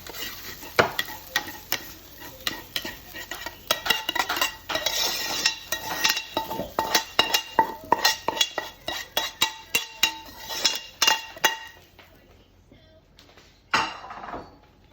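Cottage pie beef filling spooned into a baking dish, with a run of close clinks and scrapes of a spoon against the dish and soft wet thuds, fairly steady for about twelve seconds before tailing off, no talking.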